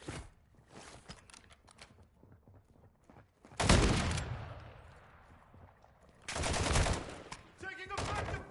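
Bursts of automatic gunfire in the video game Call of Duty DMZ, a long loud volley followed by a second close burst and scattered shots, with lighter movement sounds between them.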